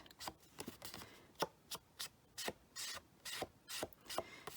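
A sponge dauber loaded with Sahara Sand ink is dabbed and swiped around the edges of a Halloween pumpkin greeting card. It makes close, soft, papery scuffs in a loose series of about a dozen short strokes, with no talking.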